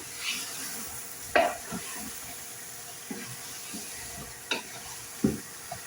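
Tomatoes fry in a pan with a soft, steady sizzle while a spoon stirs and scrapes them in a few distinct, sharp strokes, close by and fairly quiet.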